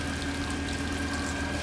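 A running water fountain at an industrial site gives a steady, dense rush of splashing water with a constant pump-like hum beneath, unchanging and close for the whole moment.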